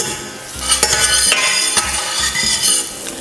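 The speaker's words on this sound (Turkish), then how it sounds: "Karıştırıyoruz." Butter and olive oil are stirred in a preheated pan for Turkish Ankara tava, with steady scraping strokes of a utensil over a close, continuous sizzle and no talking.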